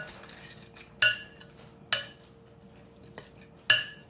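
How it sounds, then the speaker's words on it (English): Spoon stirring corn chowder with added flour in a microwave-safe bowl, giving three sharp metallic clinks against the dish at irregular intervals and one softer tap, close up with a quiet background hum. "Stir again."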